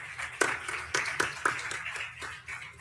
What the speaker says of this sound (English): I want you to give them a round of applause